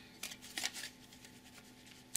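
Playing cards riffle and slap in quick papery bursts, followed by softer shuffling and a faint snap at the end.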